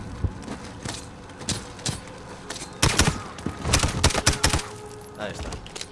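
Gunfire from a firefight in the Call of Duty: Modern Warfare video game, with sharp shots and bursts coming in irregular clusters over a steady background, growing denser and louder midway.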